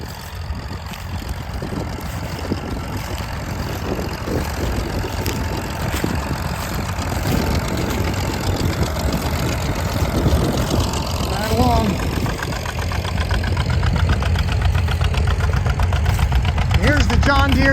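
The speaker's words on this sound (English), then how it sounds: "I'll go over here and catch that 39 Farmall M again. It's not having to work too hard with this 2-bottom plow." A 1939 Farmall M tractor engine pulls a two-bottom plow in the field, a steady loud mid-low chugging that continues without pause, with faint people talking in the background.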